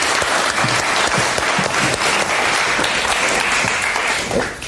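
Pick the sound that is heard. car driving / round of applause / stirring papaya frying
round of applause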